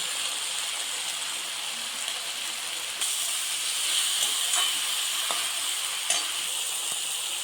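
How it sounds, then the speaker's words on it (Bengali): Spinach and coriander leaves sizzle and hiss steadily in hot spiced oil for a traditional Bengali bori jhol curry, a close, continuous frying sound with a louder burst of sizzle partway through and a few light stirring clicks. "এবার এর মধ্যে দিলাম পালং শাক"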